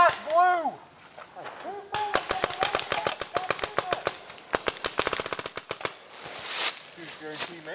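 Paintball guns fire in rapid bursts of sharp, closely spaced pops during an outdoor team game, loud and near, with shouting voices before and after the volleys.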